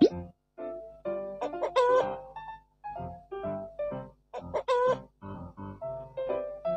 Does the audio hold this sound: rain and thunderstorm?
no